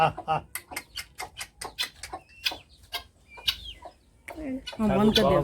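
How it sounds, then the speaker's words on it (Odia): Desi native chickens in a garden cluck in a quick run of short, rhythmic calls, close and moderately loud, ending in a busier burst of mixed clucking and squawks. "ହଁ, ଇଏ ଦେଶୀ କୁକୁଡ଼ା।"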